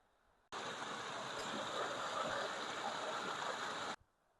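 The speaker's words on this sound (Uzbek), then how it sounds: "Mana bu soydan ham anchagina suv kelyapti." Water from a side stream rushing down a mountain gorge, a loud, steady broadband roar that starts abruptly and stops just as suddenly, with nothing else heard over it.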